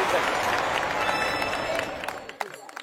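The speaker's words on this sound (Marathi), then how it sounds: "एक वेळा जोरदार टाळ्या वाजून घ्या." A crowd claps loudly, a dense burst of applause that thins out into a few scattered claps near the end.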